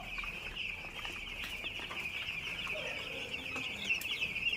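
Six-day-old broiler chicks cheeping steadily in a dense, high-pitched chorus, a constant peeping mass with a few louder individual calls near the end, no talk over it.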